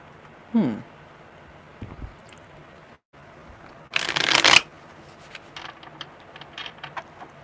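Tarot cards being shuffled during a live reading: a short riffle near the start, then a louder, longer burst of flapping card shuffling in the middle, followed by softer handling clicks, with faint ambient sound between.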